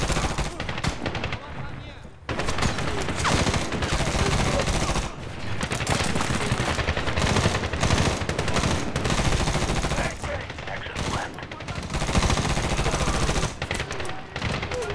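Gunfire in Medal of Honor during house-to-house fighting in Gardez, with sustained loud machine-gun bursts and rapid rifle shots over nearly the whole stretch, pausing briefly a few times, while a player talks over it.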